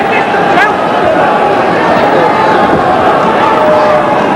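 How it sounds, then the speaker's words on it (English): A British crowd at a middleweight title boxing match roars loudly and continuously at an exchange of punches, a thick wall of crowd noise with a commentator's voice faintly audible underneath. "You'll hear this British crowd roar with every exchange, particularly if one exchange favors Mincher"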